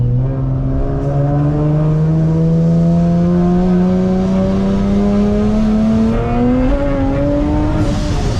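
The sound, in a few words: supercharged Infiniti G37 engine revving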